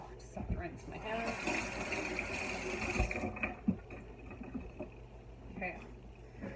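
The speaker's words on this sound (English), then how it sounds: "Just have to rinse my hands." Tap water runs and splashes close by as sticky hands are rinsed while making granola bars, a steady gushing wash that fades out after a few seconds, with a voice speaking briefly.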